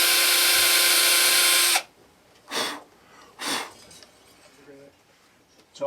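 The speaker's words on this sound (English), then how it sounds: "So we're just going to drill in here." A power drill drilling into a Line 6 Variax guitar whines loudly for under two seconds, then stops, followed by a couple of short breathy bursts and faint rustling.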